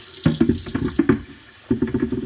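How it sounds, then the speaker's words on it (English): Water from a tap pours into a container being rinsed on a cattle farm, in close, gurgling splashes that pause briefly and then resume. "And I'm going to let this fill up with some water."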